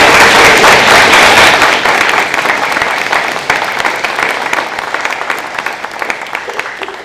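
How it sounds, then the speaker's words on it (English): Audience applause fills a National Junior Honor Society induction ceremony at Platte River Academy, a dense, steady round of clapping from a sizable crowd that is loudest at the start and slowly thins over about seven seconds. "Please join me in thanking them with a round of applause."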